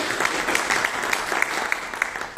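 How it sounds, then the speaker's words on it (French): An audience at a Moroccan conference on money-laundering law applauds steadily, a dense wash of many hands clapping with no break, fairly loud and close throughout. "Moi j'aimerais qu'on puisse les applaudir"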